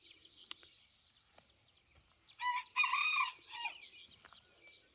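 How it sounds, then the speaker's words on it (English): Backyard garden chickens cluck softly before a rooster lets out one loud, close crow in the middle, followed by more clucking over a quiet outdoor background. "My chickens have something to say."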